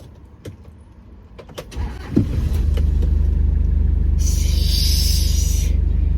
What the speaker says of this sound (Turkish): Şimdi arabayı çalıştırıyorum.